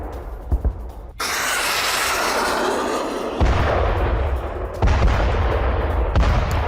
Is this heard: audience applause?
no